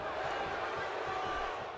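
An arena crowd roars in WWE 2K16 as Batista and the Undertaker wrestle, a steady, fairly distant wash of cheering and noise that fills the whole moment.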